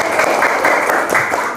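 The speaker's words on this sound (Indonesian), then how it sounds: "Ya, tepuk tangannya mana?" Classroom applause from a group of students clapping together, a dense steady patter of many hands sustained throughout, close and fairly loud.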